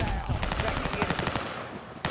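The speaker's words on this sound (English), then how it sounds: "That is the most horrible gun I've ever shot in my entire life." Rapid automatic gunfire in Call of Duty Modern Warfare, a close, loud burst of evenly spaced shots rattling for about two seconds, followed by a single sharp report after a short pause.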